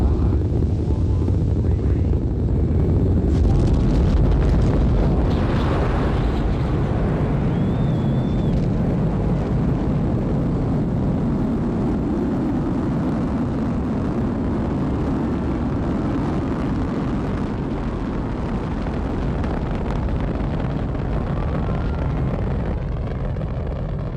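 Rocket main engines igniting at a space shuttle launch carrying the Hubble telescope, a loud, sustained broadband roar with wind-buffeted rumble that swells early and holds steady throughout, with no voices.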